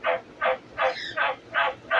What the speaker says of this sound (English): You hear the white tree frogs croaking?